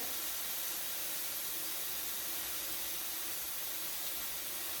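Shrimp and half a pound of ground pork sizzle steadily in a hot pan, a continuous loud hiss of frying with no talk over it.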